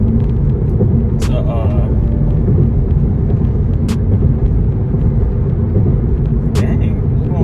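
A car drives steadily through a straight road tunnel, a constant low rumble of engine and tire noise filling the enclosed space, with a few brief higher clicks and knocks on top.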